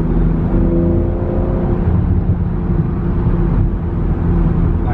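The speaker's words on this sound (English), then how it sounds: "this is like stock exhaust with obviously just a downpipe, but this is still stock exhaust" A BMW M340i engine rumbles through the stock exhaust with an added downpipe, a steady low, throaty drone, close by and fairly constant with slight rises in pitch.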